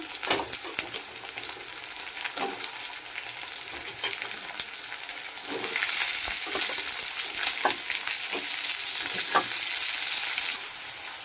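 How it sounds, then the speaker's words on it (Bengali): Potatoes frying with onions in a pan, a steady close sizzle broken by scattered stirring scrapes, with no voices. "পেঁয়াজটা ভাজা হয়ে গেছে, এবার আমি আলুগুলো দিয়ে দিচ্ছি।"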